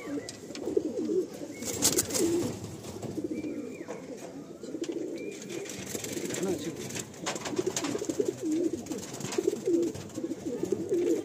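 Madrasi tournament pigeons coo repeatedly at close range, soft rolling calls recurring in a loose rhythm over a steady background hum.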